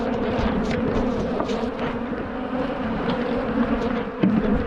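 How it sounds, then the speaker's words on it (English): Loud, continuous buzzing of many angry honey bees swarming and attacking at an open hive nearby, a thick agitated drone with no voices. "there's a million bees attacking"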